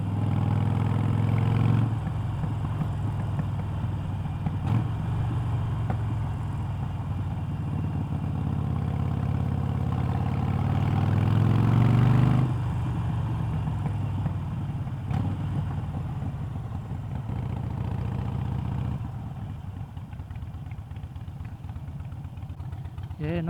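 A Harley-Davidson Iron 883 motorcycle with Vance and Hines Shortshots exhaust idles and revs with a deep, steady rumble, swelling briefly with throttle blips, while people talk nearby.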